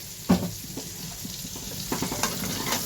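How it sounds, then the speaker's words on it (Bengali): Eggplant fries and is stirred in a pan of spiced oil, a steady close sizzle punctuated by several spatula scrapes and knocks. "বেগুনটাও হালকা ভাজা হবে,"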